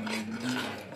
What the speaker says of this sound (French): Là il faut encore touiller.